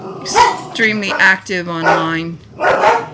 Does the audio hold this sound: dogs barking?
yes